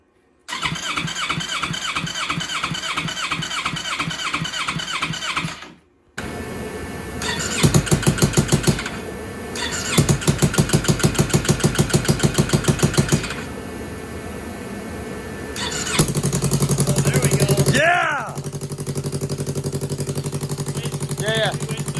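A street bike motorcycle engine cranks in several bursts, sputters and finally catches, settling into a loud, close, steady idle while people talk nearby.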